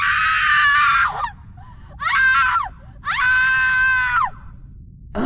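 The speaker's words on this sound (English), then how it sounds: "But that cry, a woman's cry. A call for help, perhaps." A woman cries out for help in three long, wailing screams separated by short pauses, each rising and falling in pitch, heard clearly over a faint low background rumble.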